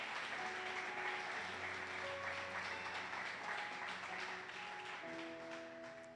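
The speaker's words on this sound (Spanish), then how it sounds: "Dale pues ese fuerte aplauso a Dios." A church congregation applauds, a steady wash of clapping kept low and distant beneath sustained organ or keyboard tones that shift chords partway through.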